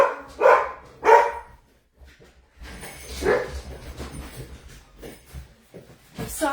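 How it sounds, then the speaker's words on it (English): A dog, locked out of the house, barks indoors in a few sharp bursts with quieter whimpers and muffled movement between them, fairly close but not very loud. "you're going to hear some dog barking"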